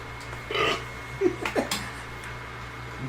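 A man burps a few times, short low gurgling belches close to the microphone over a quiet background hum.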